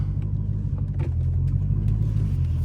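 A Dodge Hellcat being driven, its engine producing a loud, steady low rumble from inside the cabin with no clear separate whine, continuous and close throughout.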